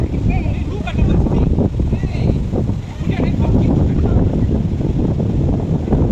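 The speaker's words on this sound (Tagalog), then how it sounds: "Alam, mahangin talaga." Strong wind buffets the microphone in a constant roar at the OCBC Skyway in Singapore, with a voice talking faintly beneath the rushing noise.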